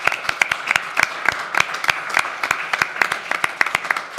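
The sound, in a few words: applause for conference helpers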